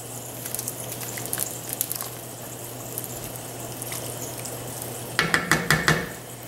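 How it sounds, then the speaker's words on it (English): Meat and sausage stirred in a pot, faint scraping and clinking against a quiet steady background, ending in a short burst of louder clanks of a utensil on the pot. "Stir that in."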